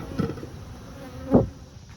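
Bees buzzing around a swarm hive in a backyard apiary, a low, fairly steady hum with one louder close pass near the end, and no voices.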